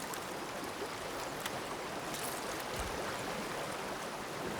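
An Alpine waterfall and stream rush in a continuous, even broadband roar, faint and unbroken, with no voices present.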